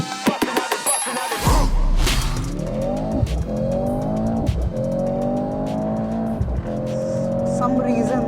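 A supercar launches hard in a drag race, tires squealing and the engine revving through rising gear pulls after a brief rumble, loud and close, with a voice talking over it.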